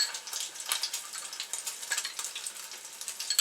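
Mashed potato ball dipped in egg sizzling as it fries in a skillet over medium heat, a steady crackling hiss with small popping bursts, close and fairly quiet, with no talk.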